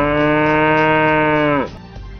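A single cow gives one long, loud, close moo lasting about a second and a half, ending in a falling groan, then fades into quiet background noise.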